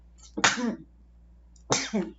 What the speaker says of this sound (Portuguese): vocês vão conviver com meus espirros e meus acessos de tosse